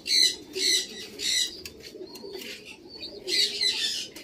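Pigeons in a breeder's loft coo and flutter nearby, with bursts of wing flapping and rustling interleaved with low coos and faint chirps. Nobody speaks.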